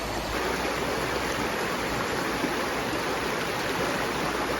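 A river stream flows steadily at a riverside bathing spot, a constant broadband rushing of water, moderately loud and unbroken, with no voices.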